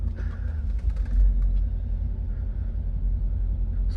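A Cadillac Escalade converted to two-wheel drive reverses slowly, its engine a steady low rumble close by with faint mechanical noises over the idle.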